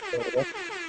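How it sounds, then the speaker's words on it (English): A single short, loud air horn blast, brassy and buzzing, lasting under half a second before fading. "Did I ring the air horn yet?"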